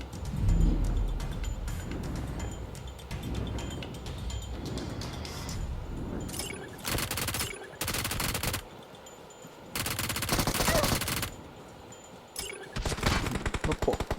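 Bursts of gunfire in PUBG Mobile crack out in several separate volleys, loud and broadband, with steady game ambience between them and no talking.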